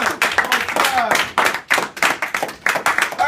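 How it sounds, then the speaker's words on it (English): A classroom round of applause for a student winner: uneven bursts of hand clapping rise and fall in waves, mixed with students' voices in the room. "let's give him a round of applause"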